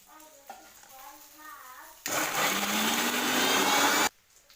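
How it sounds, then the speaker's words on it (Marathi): A mixer grinder whirs loudly for about two seconds, grinding roasted onion, coconut, ginger, garlic and coriander into a paste for a fish thali, with a rising motor whine. It starts and stops abruptly, and quiet background voices come before and after. "आता आपण मिक्सरमध्ये घेतलेलं वाटेने आपण भाजलेला कांदा खोबरं आलं लसूण आणि कोथिंबीर आता ते आपण बारीक करून घेऊया"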